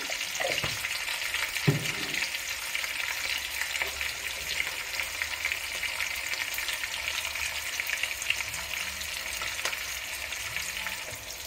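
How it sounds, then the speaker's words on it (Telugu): Chopped onions fry in hot oil in a pan with a little salt while being stirred now and then, a steady close sizzle broken by a few scraping stirs; no one talks. "సో ఇప్పుడు ఆనియన్ అయితే లైట్గా ఫ్రై అయింది కదా"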